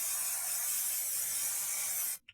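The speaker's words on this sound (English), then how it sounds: "I remembered I've got to spray a bit more" Aerosol hair spray hisses steadily onto a wig for about two seconds, a close, even, bright spray that cuts off abruptly, followed by a brief faint click.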